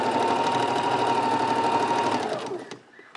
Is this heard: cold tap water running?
no